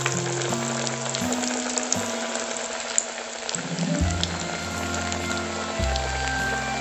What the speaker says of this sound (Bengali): সুন্দর ভাবে লাল করে ভাজবো।